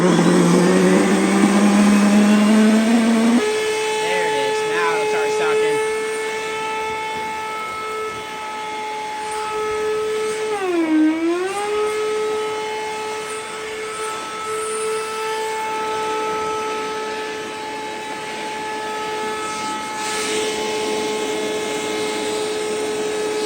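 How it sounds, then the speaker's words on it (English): Flex 1.6 gallon shop vac sucking up sawdust, a loud, steady whining drone whose pitch jumps early on, dips and wavers mid-run, then settles back into a strained, siren-like tone. "it'll make some kind of really weird noise and won't suck at all, and then the noise will change and then it'll start sucking"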